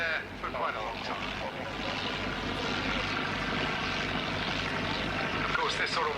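Aircraft hovering low over an airshow ground, its steady engine and rotor-like drone sustained throughout, heard at a distance under crowd and commentary-like background noise.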